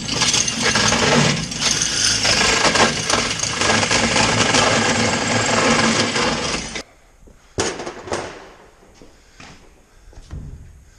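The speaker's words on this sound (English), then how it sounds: "I'm going to go ahead and cut my hole for my 5th wheel hitch." Power tool cutting a hole through a Dodge Ram truck bed for a 5th wheel hitch, a loud continuous grinding roar for about seven seconds, then stopping, followed by a few sharp metallic clanks and knocks.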